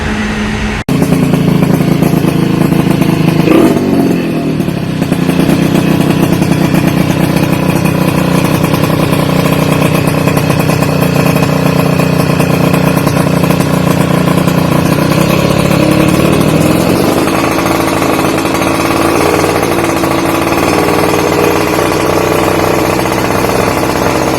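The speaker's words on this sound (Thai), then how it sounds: "วันนี้ผมจะมาอัดคลิป ให้ฟังเสียงเทน่ากันนะครับ" A Honda Tena motorcycle fitted with Chinese parts runs close by, its engine holding a loud, steady buzzing drone with brief rev swells near the start and again past the middle, and no voices over it.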